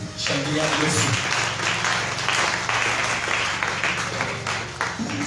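Congregation at a French-language church service applauding to acclaim Jesus, dense sustained clapping that stays loud and steady throughout, with voices calling out over it.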